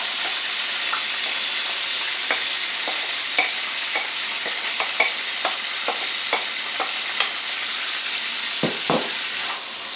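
Vegetables fry in butter and oil for a cheesesteak-style dish, a constant bright sizzle with a steady run of light clicks and scrapes as a utensil stirs the pan, close and loud, no voices.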